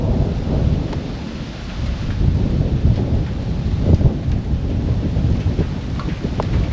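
A storm rolls in over a vintage tractor parade, with low thunder rumbling continuously beneath steady rain and wind buffeting the microphone, no speech.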